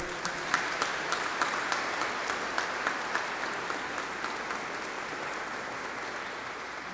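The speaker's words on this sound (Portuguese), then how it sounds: "Queria pedir uma salva de palmas ao nosso herói." Applause for a Brazilian World War II veteran at a formal commemorative session, steady clapping from a seated audience with a few sharper claps standing out, moderately distant and gradually thinning.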